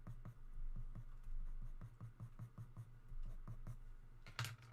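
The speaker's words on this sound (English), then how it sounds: "Go over with your pencil." A pencil draws a horse on paper in short, regular scratching strokes, quiet and close, with a brief louder scrape at the very end.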